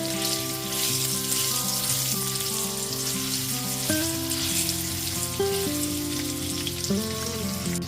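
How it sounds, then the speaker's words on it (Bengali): Potato pieces frying in oil with salt and turmeric, a dense, even sizzle, close and constant throughout, with background music and no speech. "লবণ আর হলুদ গুঁড়োটা দিয়ে খুব ভালো মতো মিশিয়ে আলুটাকে ভেজে নেব"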